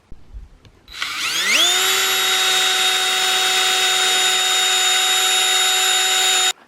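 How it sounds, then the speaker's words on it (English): A power drill pre-drilling holes for house siding whirs up to speed and runs steadily at a high, even pitch for several seconds, loud and close, then cuts off. "the reason that we're pre-drilling our holes"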